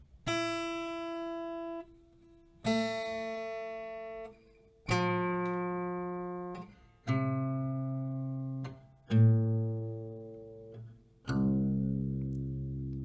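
Six acoustic guitar strings ring out one at a time from the low E upward, each plucked note left to sustain for about two seconds before the next, clear and unaccompanied.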